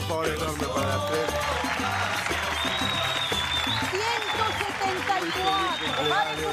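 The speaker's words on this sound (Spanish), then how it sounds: "Aplauso, por favor, enorme para la fe." An audience applauds during a television program, clapping sustained throughout beneath overlapping voices that speak and call out over it.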